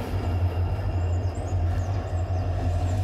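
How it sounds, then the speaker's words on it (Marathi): A train runs along a track overhead near a station above dense forest on the Dudhsagar route, a steady low rumble and rolling drone with faint clatter, heard continuously from below. "हा बघा, हा जो आवाज आहे हा ट्रेनचा आवाज आहे."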